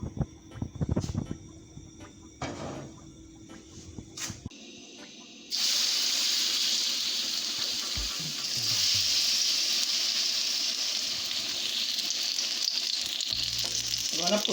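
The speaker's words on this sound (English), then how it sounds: "we're going to fry our fritters now" Sardine fritters frying in hot oil in a pot: after a few seconds of quieter clatter, a loud, steady, close sizzle sets in and holds to the end.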